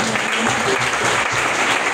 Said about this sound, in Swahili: Tumuongezee makofi